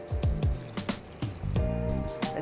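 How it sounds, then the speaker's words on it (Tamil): Water is poured into a potato milk curry gravy in a kitchen, giving a series of close, splashy drips and glugs in uneven bursts. "ஸோ அதனால் நம்ம வந்து தண்ணி விட்டுக்கலாம்."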